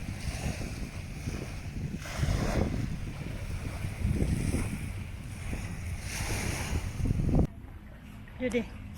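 Sea waves wash onto a beach in Singapore at sunrise, surging in broad, steady swells with wind rumbling across the microphone; the sound drops away sharply near the end, leaving faint background noise.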